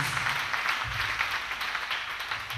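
Congregation at a church service clapping for Jesus Christ, a steady dense patter of many hands filling the room with low rumbling underneath, no voices over it.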